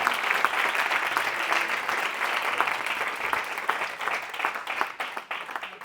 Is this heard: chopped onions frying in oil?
no